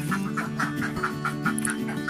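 Laying ducks quack in a steady, repeated chorus, several birds calling close by with rhythmic nasal bursts and no talk.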